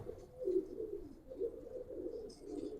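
Giribaz pigeons coo in soft, low rolling phrases, several repeated calls close by and fairly quiet, with faint chirps above.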